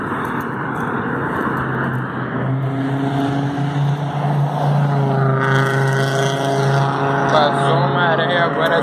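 A vehicle engine roars and climbs in pitch as it accelerates past nearby, loud and sustained, with steady road noise underneath.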